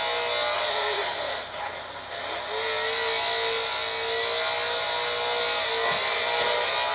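V8 supercar engines racing at Bathurst in a video game, a continuous loud engine drone with pitch shifting as the car accelerates and shifts, holding steady throughout.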